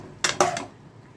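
A spatula gives two or three quick scrapes against a pan as cooked soybean chunks are stirred with a pinch of sugar. The sound is close and brief, then falls quiet.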